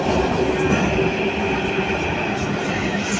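A second-generation Athens metro train runs slowly on line 2. The ride gives a steady, close, loud rumble with a sustained motor whine and faint rail clatter, and there is no break.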